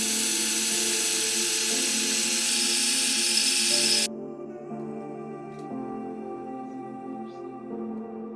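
Drilling through a universal mounting plate for a sim racing rig, a loud continuous high-pitched whine for about four seconds that stops abruptly, leaving a quieter low hum afterward.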